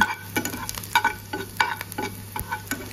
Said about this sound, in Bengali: শুরুতে অল্প একটু তেল দিয়ে এর মধ্যে রসুন কুচি করে ভেজে নিচ্ছি।